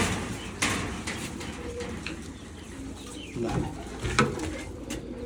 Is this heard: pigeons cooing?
yes